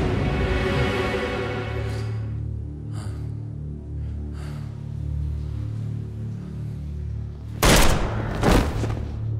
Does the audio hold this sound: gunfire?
yes